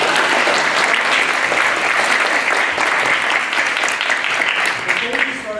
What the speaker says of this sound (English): So let's give a applause to everyone here.